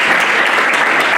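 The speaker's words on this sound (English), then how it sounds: "let's just give the table a little clap" Loud, dense applause from an audience at a school's anniversary celebration dinner, honouring a table of school representatives; steady clapping fills the whole short stretch with no pauses.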